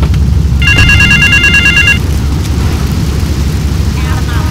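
A telephone bell rings in a rapid electronic trill for over a second in the video game GTA 3, loud over a constant low engine-like rumble, then stops.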